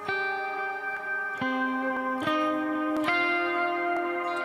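Sustained electric guitar notes through a Neural DSP Nano Cortex ring out one after another, each washing into a long, lingering reverb tail that blurs the changes.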